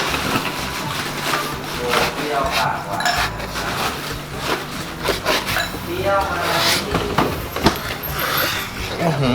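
A dull kitchen knife slices pork belly on a cutting board, making repeated scraping, rasping strokes and soft knocks with a few clinks, close up while someone talks.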